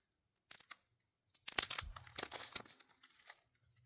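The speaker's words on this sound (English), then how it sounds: "So let's unwrap this." Packaging of a Hollyland Lark M2 wireless lavalier microphone is torn open and unwrapped up close: two quick rips, a pause, then a longer run of crinkling, tearing plastic and paper that fades out. No one speaks.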